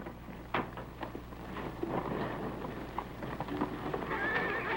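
A horse neighs and its hooves clop in an old adventure film, fairly quiet against a steady background hiss and hum, with no talking.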